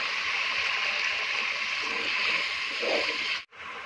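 Water poured into a pan of frying spices for keema matar pulao, giving a steady loud sizzle with a brief bubbling surge, then a sudden drop before the sizzle resumes.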